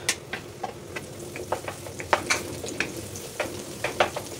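Garlic sautés in a pan with a steady soft sizzle, punctuated by frequent sharp crackles and pops in an irregular rhythm, close and fairly loud with no talking.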